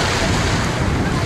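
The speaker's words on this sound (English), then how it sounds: "look how big the waves are" Ocean waves at a beach roll in as a continuous roaring wash of surf, heavily mixed with wind buffeting the microphone.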